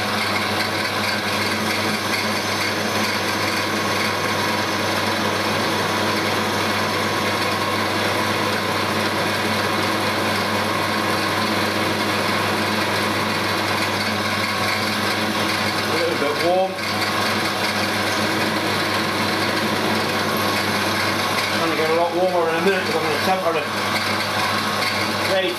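A milling machine fitted with a dividing head takes a single metal-cutting pass, giving a steady, fairly loud mechanical whir with constant tone throughout and a couple of brief shifts near the end.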